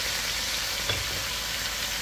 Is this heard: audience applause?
no